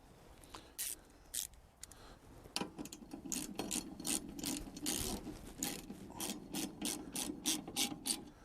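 A flex-head ratchet wrench clicks in quick rhythmic bursts, starting with a few scattered clicks and building into steady close ratcheting over a scraping, rubbing mechanical background.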